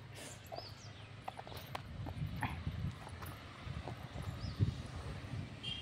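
Sheep running fast, a busy patter of quick hoofbeats on the ground, irregular and fairly close, with a few bird chirps and light clatter over a low outdoor background.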